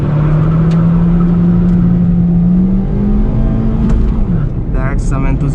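A 2013 Hyundai i10 with the 1.2 Kappa2 engine revs hard in first gear, a loud close droning engine note climbing steadily in pitch, then easing off near the end with faint tire and interior noises.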